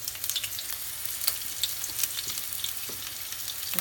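Onions frying in hot oil for a Congolese dish, giving a steady, dense crackling sizzle with scattered sharp pops throughout, close and without voices.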